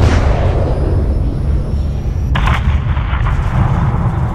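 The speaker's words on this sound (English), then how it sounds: "have your man drop a missile on that hangar" Missile strike blowing up a hangar in Call of Duty Modern Warfare 3, a loud, sustained booming roar of explosion and rumble with a sharp fresh blast partway through, continuous heavy low rumble throughout.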